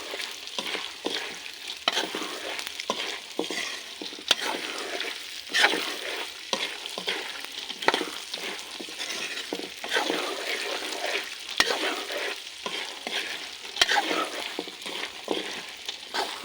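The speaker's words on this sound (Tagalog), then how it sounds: "haluin, yan, halo lang ng halo" Salted peanuts being stirred in a pan, a continuous dry scraping and rattling with repeated strokes of the spatula and a faint sizzle beneath, close and steady.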